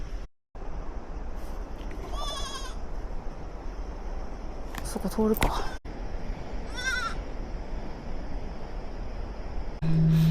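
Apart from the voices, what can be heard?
goats bleating on a road in Nepal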